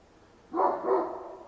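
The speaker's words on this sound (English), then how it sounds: "be greeted by this very loud barking every time it's going on" A neighbor's dog lets out one loud, harsh bark that trails into a second rough burst, close by and alone against quiet background.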